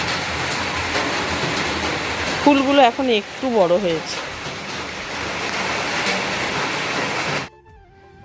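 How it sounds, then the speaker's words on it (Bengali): Steady, fairly heavy unseasonal rain falls outside a home on a morning, a continuous close hiss that fills the clip. Someone speaks briefly partway through, and the rain cuts off abruptly near the end. "এই যে অসময়ে বৃষ্টি হচ্ছে সেই অনুপাতে কিন্তু ভালোই বৃষ্টি হচ্ছে, শব্দও হচ্ছে"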